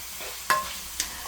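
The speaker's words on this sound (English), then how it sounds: "while I do that, this could stay stir frying" Chopped vegetables stir frying in a pan while being worked with a spoon, a soft steady sizzle with two brief scraping clatters, close by with no talk.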